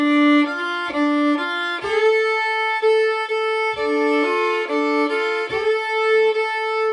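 A fiddle plays phrase 2 of the tune Chirps and Williams, a bright bowed melody of sustained notes with short repeated phrases, some double notes ringing together, played solo and up close.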